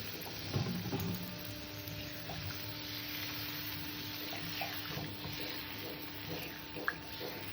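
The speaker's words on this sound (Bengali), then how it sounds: "জল দিয়ে দিলাম" Water poured into a pot of chicken curry with cauliflower, a continuous splashing gush that settles into a steady flow, close by with a few clinks.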